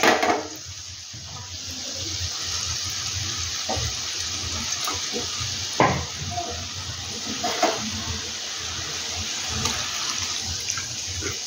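Water poured into a cooking pan from a spice-washing bowl while making a vegetarian cauliflower kofta curry, a steady close splashing hiss with a few sharper sizzling bursts, no talk.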